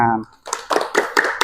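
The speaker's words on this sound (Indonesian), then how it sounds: "Boleh tepuk tangan." A group of participants in a classroom group-guidance session clap their hands in a quick run of about four sharp claps, following a brief voice at the start.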